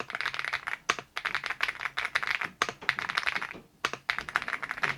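Rapid, steady key presses on a £50 computer keyboard bought from AliExpress, close and crisp, with brief pauses between bursts of typing and no voices.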